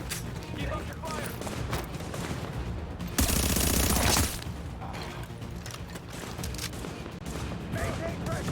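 Sustained gunfire from The Division, busy and layered throughout, with a loud dense burst of fire near the middle before the steady shooting resumes.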